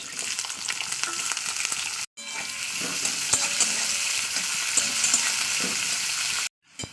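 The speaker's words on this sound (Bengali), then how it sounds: "জিরেটা ভাজা হয়ে গেছে দিয়ে দিচ্ছি পেঁয়াজ" Chopped onion sizzles loudly in hot mustard oil with whole cumin seeds in a kitchen pan, a dense continuous frying hiss with stirring scrapes, briefly cut off twice.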